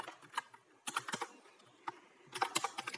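Someone types code on a computer keyboard, with quick clusters of close, crisp key clicks separated by short pauses and no talking.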